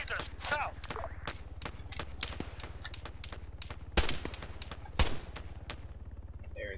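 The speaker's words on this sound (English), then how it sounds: "See, I'm hearing a lot of gunfire." Gunfire in the Arma 3 military game crackles as a rapid stream of sharp shots, with a couple of louder cracks standing out, under a steady low engine-like rumble and no clear talk.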